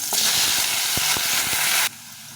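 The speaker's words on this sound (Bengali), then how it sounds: "আমি আলুগুলোকে ভেজে নেব" Potatoes fry in hot oil seasoned with dried red chillies and whole cumin, a loud continuous hiss with a few soft knocks in the pan, which drops away abruptly near the end.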